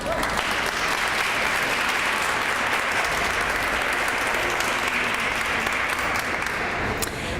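An audience claps for the speakers at a civic plan launch event in Pittsburgh, a full, even wash of applause that stays loud and steady for about seven seconds with no break.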